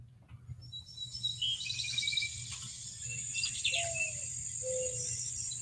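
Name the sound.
played recording of bird calls, owl or mourning dove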